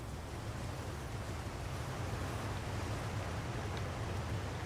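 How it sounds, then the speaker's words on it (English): A waterfall in the video game Elden Ring gives off a steady, soft broadband rush of falling water, continuous and even, with no voices over it. "Is there something behind the waterfall?"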